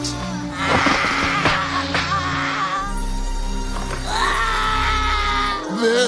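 A young boy in a Dragon Ball anime scene screams loudly in terror, a long sustained high cry rising and wavering over a dramatic rumbling background score, with a short sharp burst near the end.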